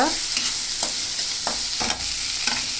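Carrot and peanut curry being stirred in a frying pan, a spoon scraping in a few distinct strokes over a steady close sizzle, with no voices.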